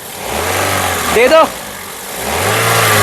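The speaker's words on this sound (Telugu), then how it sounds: "ఇంజన్ యొక్క నాయిస్ చాలా సైలెంట్గా అయితే ఉందండి" A 2010 Toyota Corolla Altis G engine hums and rises in pitch as it revs, dips briefly while a voice speaks, then climbs again.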